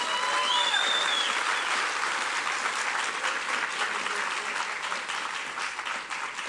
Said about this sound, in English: One more round of applause for John Sharp.